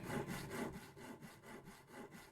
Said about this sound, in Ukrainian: Пиляю, пиляю.